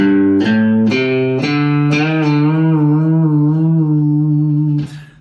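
A distorted electric guitar plays low notes, several of them bent so the pitch slides down and wavers, ringing out before being cut off near the end.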